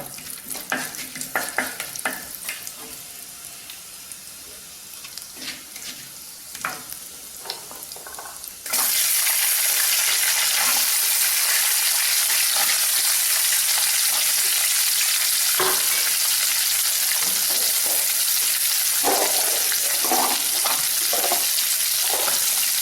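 Mustard seeds, fenugreek and asafoetida hit hot oil in a pan for an onion kuzhambu: scattered clicks and crackles, then a sudden loud, steady sizzle that carries on, with occasional stirring taps and no talking.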